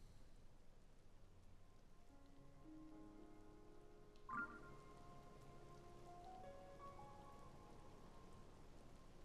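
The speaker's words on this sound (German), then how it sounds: "also Regen ist langsam gut hier" Soft rain patters faintly and steadily in The Legend of Zelda: Tears of the Kingdom, with quiet sustained musical tones and a brief chime-like swell partway through.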